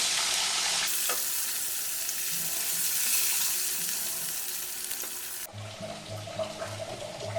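Cut potatoes frying in hot oil seasoned with turmeric and salt, a steady close sizzle that runs throughout with a brief change in tone near the end.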